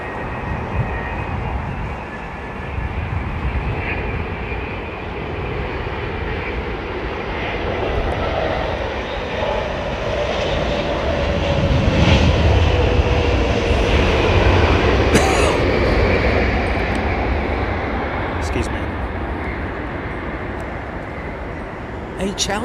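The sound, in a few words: aircraft landing at London Heathrow Airport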